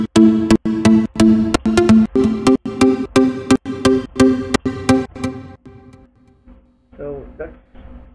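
A synth melody of short, bright plucked notes from the Harmless synth in FL Studio 10, a house pluck in a steady rhythm, trailing off into quieter, sparser tones near the end.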